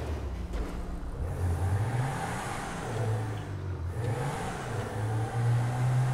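Declasse Rhapsody, a compact modelled on the AMC Pacer, revving its engine in GTA Online; a steady mid-pitched engine drone rises and falls in several revs, loud and close throughout with no talking.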